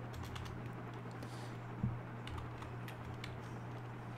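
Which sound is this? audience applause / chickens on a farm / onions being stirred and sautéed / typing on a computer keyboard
typing on a computer keyboard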